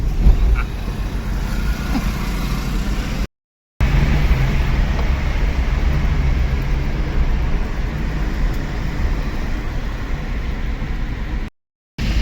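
A car driving along a road in rural Gujarat: a loud, steady, continuous road rumble and engine noise, broken by two brief gaps.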